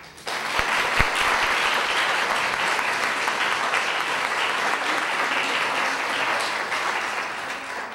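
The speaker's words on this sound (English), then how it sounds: "Lee deserves a huge round of applause." Sustained audience applause at a panel discussion on art and money, a dense, steady wash of many hands clapping at even loudness throughout, with no talk over it.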